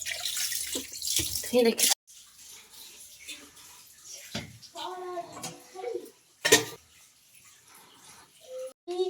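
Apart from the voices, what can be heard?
water running from a pipe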